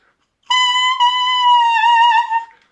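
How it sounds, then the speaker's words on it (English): A saxophone mouthpiece played on its own gives one sustained, shrill, squeaky tone lasting about two seconds, close, loud and slightly wavering in pitch. "Now it makes quite a squeaky sound with just the mouthpiece like this."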